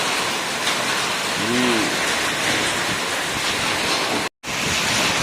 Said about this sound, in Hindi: और बारिश जो है वो लगातार हो रही है